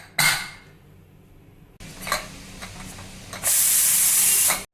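Pressure cooker of mutton sambar hissing loudly on the stove, with short bursts of steam and a final sustained, bright whistle-like hiss lasting over a second near the end, along with some faint kitchen clatter.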